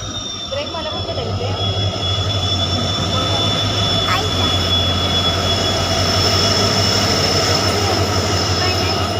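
A train arriving at a station rumbles steadily nearby with a low droning hum and faint wheel squeal, while people talk over the noise.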